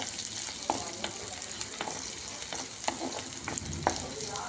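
Raw chutney fries with lentils in a pan, making a steady, dense sizzle. Repeated stirring scrapes and light clicks run through it, and there is no speech.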